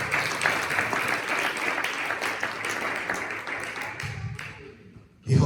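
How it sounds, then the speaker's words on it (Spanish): A church congregation claps hands loudly and continuously for about five seconds, a dense crowd applause that fades briefly before a voice cuts in at the end. "Denle palmas fuertes al Señor."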